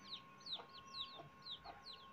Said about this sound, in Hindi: अभी हम हमारे मुर्गी को जल्दी से खोल लेते हैं